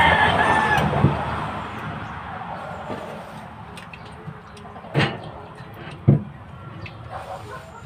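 A rooster crows and chickens cluck during breakfast outdoors on a rural farm, a loud call early on followed by scattered nearer clucks and knocks.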